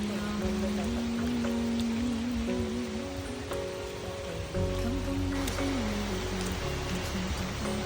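Light drizzling rain falls at a house in Kampot, a soft steady patter spread evenly throughout, underneath a sustained tonal hum whose pitch wavers and steps between notes.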